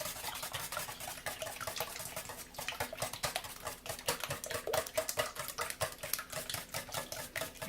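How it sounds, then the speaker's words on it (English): Organic free-range eggs whisked in a bowl, a quick, steady run of close, light rhythmic clicks and taps from the whisk against the dish, with no talking. "So we're just going to whisk up our eggs a little bit here."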